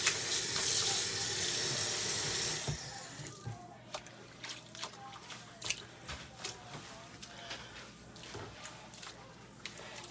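A synthetic wig is submerged and swished in a sink of water, starting with a rush of running water that gives way to soft intermittent splashes, sloshes and squishing.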